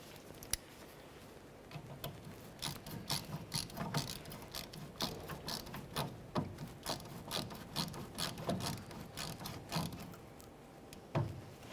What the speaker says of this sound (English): Put the clamp on there and snug it up.